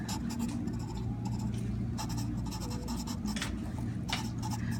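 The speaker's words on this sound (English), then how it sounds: "In the notes section here, I'm going to write this." Algebra notes being written by hand: close, scratchy pen strokes come in quick bursts separated by short pauses, over a low steady background hum.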